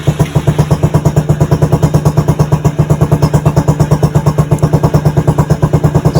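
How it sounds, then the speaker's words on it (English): A Venom X22 GT motorcycle idles up close with a loud, steady, rapid chugging pulse that holds an even rhythm throughout, with no voices. "So again, let your bike idle."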